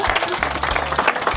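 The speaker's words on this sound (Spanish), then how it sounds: "Y un aplauso fuerte," An audience at a talk about twelve years of van travel breaks into brief applause, a short burst of clapping from a gathered crowd, moderately loud and close.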